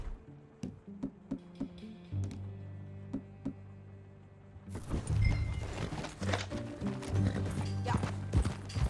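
Horse hooves in Red Dead Redemption: a slow, evenly spaced clip-clop of hoofbeats at first, then heavier, busier galloping thuds mixed with tack and ambient noise as the ride picks up.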